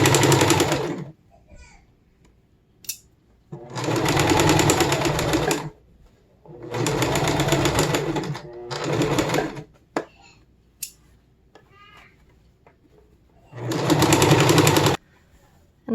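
Sewing machine stitching the hem of a fabric Viking hood in four loud bursts of rapid whirring, separated by quiet pauses with small clicks and handling noises.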